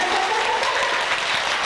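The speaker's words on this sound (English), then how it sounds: "I want you to clap them very fast" Audience at a children's magic and ventriloquism safety show claps hands very fast, a brief burst of dense, loud, continuous clapping with no voices.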